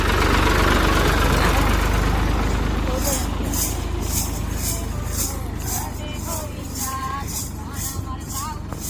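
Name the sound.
tractor engine running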